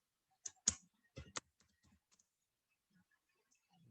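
A handful of sharp computer mouse clicks and keyboard key taps in a command prompt, close and isolated, with near silence between them.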